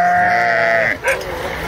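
A young lamb or kid goat in South Sinai gives one long, wavering bleat close by, then a shorter bleating call, with faint background noise and no talk over it.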